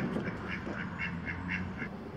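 Ducks in a pool quack in a quick, regular series of about six calls over a steady background hum, fairly close with no talking.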